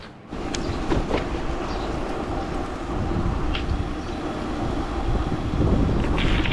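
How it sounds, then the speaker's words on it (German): Strong wind roars in a continuous, heavy rumble with gusty buffeting against the microphone, steady and loud throughout, with occasional faint clicks, in a courtyard in the Scottish Highlands. "Wir haben gerade nur starken Wind."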